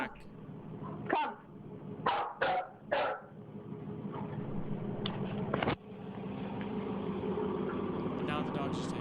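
A dog gives several loud, close barks in a quick cluster near the start, then more scattered yaps, over a steady background hum.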